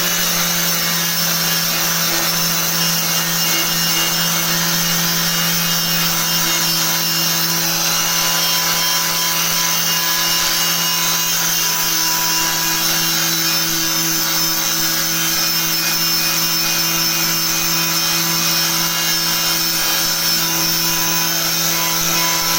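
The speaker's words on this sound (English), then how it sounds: "I just got my angle grinder with a one of them wire wheels on it." An angle grinder fitted with a wire wheel strips the body of a Jeep Comanche, making a loud, continuous whine that holds steady for over twenty seconds without a break.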